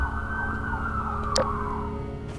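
A steady electronic siren wails continuously in a horror video game at moderate level, with a brief sharp click partway through and a low hum underneath.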